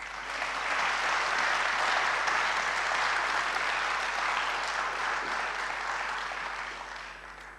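A graduation crowd at the Medical University of Lodz applauds faculty and administration, dense steady clapping filling the hall, loud and sustained before easing slightly at the end.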